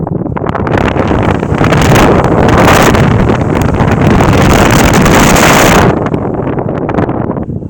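An electric fan motor runs with its capacitor disconnected, giving a loud, steady whooshing roar with a rising swell in the middle, then cutting back down near the end, with no voices.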